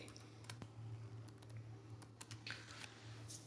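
Scattered keystrokes on a computer keyboard while working in a spreadsheet, irregular single clicks and a few quick pairs over a steady low electrical hum, quiet and close.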